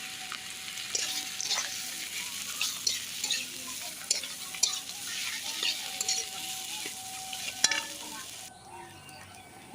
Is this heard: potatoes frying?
yes